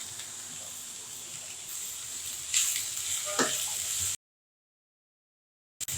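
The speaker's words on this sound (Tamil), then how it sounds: "இது எல்லாத்தையும் நல்லா வதக்கிடலாம்." Green chilli, ivy gourd, cucumber, potato and beans sauté in a pan, giving a steady close-up sizzle with a few stirring scrapes. The sound then cuts to silence before briefly returning.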